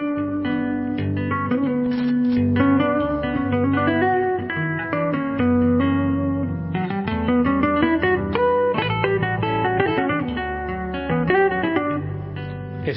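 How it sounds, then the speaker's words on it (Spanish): An acoustic Chapman Stick played live in a radio studio, with a dense, guitar-like flow of tapped notes, bass lines and chords that runs continuously, close and full, with no talking. "Lo que traje hoy aquí es una versión acústica del stick"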